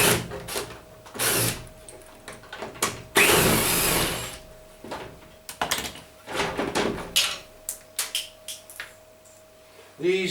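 Screws being backed out of the plastic soap drawer housing on a Hotpoint Indesit washing machine, a run of loud close clatters, whirring bursts and plastic knocks with brief pauses between them.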